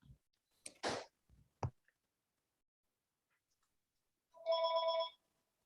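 Over a quiet online meeting, a few scattered clicks and taps come first, then a telephone gives a single clear, bright ring lasting about a second.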